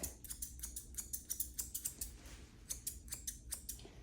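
Rapid, crisp snips of scissors cutting the coat of a Soft Coated Wheaten Terrier during grooming, repeated in quick irregular bursts close by, with no voices.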